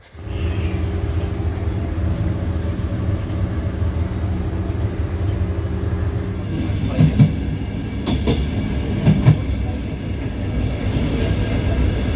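Train riding along a railway line in Latvia near Riga, a steady loud rumble of wheels and carriage with a change in tone partway through and a few sharp rail clacks later on, no talking.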